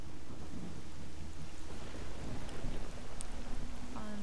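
Steady rain pours in a video game setting while thunder rumbles low underneath, a dense continuous wash of rainfall with no voices.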